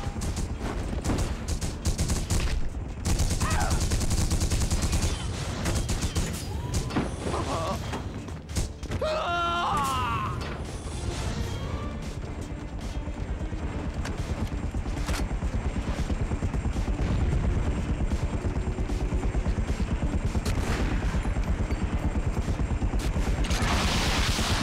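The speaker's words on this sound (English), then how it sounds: "Oh my god, who's shooting?" Dense gunfire from The Punisher on PS2, a steady rapid crackle of shots running nearly the whole time, loud and close. Clattering battle noise surrounds it, and a voice cuts in briefly.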